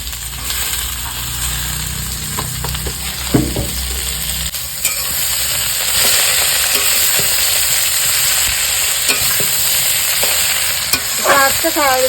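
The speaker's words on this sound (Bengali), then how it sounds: "এখন এই যে কলমি শাকগুলো ভাজা করে নেব।" Water spinach (kalmi greens) frying in a pan after potatoes, with a loud, constant sizzle and hiss and occasional scraping and clattering strokes as the greens are turned. Village kitchen.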